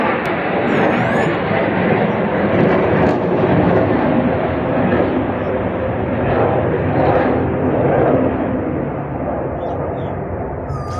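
F-35 fighter jets fly overhead with a loud, sustained roaring rumble that holds steady for the whole stretch and eases slightly near the end.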